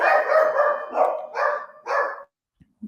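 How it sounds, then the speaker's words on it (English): Dogs bark indoors in a rapid run of about five loud, close woofs, then fall quiet except for two faint short sounds at the end. "now my dogs are going to bark"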